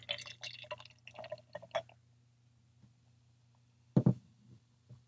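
Short's Brewing Psychedelic Cat Grass triple-hopped IPA is poured into a glass in soft, intermittent splashes and trickles, with a louder gush near the end, all faint, close and without talk.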